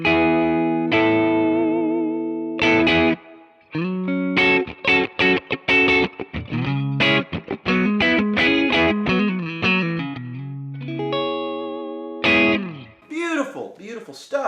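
Electric guitar played through the Chimer 2 Kemper amp profile, a bright chiming tone moving from ringing chords into quick melodic runs with bends and vibrato, close and loud, no talking.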